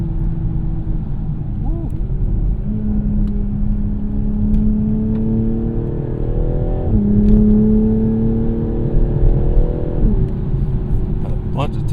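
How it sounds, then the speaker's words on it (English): Toyota GR Supra engine revving in a steady drone that climbs and drops sharply with each aggressive up and down shift, heard from the cabin with a brief exclamation from the driver. "They're pretty aggressive for the up and down shift."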